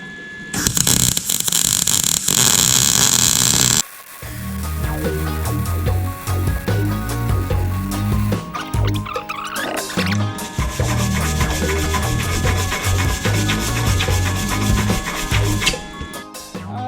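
Welding a hook onto an excavator bucket produces a loud, steady crackling sizzle in long runs, with a short gap and shifts in texture between passes, plus some clanking and mechanical tones.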